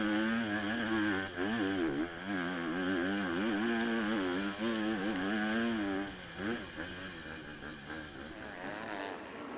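MX2 motocross bikes race at FatCat Moto Parc in the British Championship, including a Hitachi KTM, their engines whining and warbling as they rev up and down, loud and steady throughout with a commentator talking over them.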